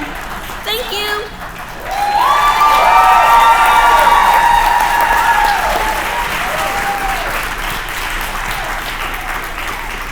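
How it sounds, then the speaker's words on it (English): A standing ovation at a 2022 Hall of Fame and awards banquet: a hall full of people bursts into steady, loud applause with scattered cheers, sustained for several seconds after a brief voice at the start. "you got a standing ovation. Everybody was cheering."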